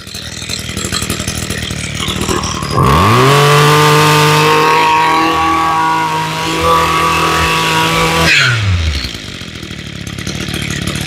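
Used Japanese lawn mower engine revving up from idle to a loud, steady high-pitched whine, held for several seconds, then dropping back to a quieter running idle, close by.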